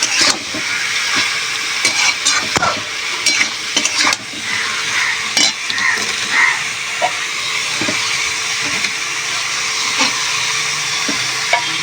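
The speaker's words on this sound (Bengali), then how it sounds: "একটু একটু করে দিয়ে মজিয়ে নেব মশলার সঙ্গে বাঁধাকপিটা" Cabbage frying in a karahi with salt and spices gives a loud, steady sizzle close by, broken by repeated scraping and clacking as it is stirred, with no voices.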